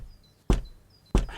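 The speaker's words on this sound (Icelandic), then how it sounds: "þú byrja bara á því að berja að dyrum hjá íkornafjölskyldunni til dæmis" Two firm, hollow knocks on a wooden door, close and spaced about half a second apart, in an otherwise quiet room.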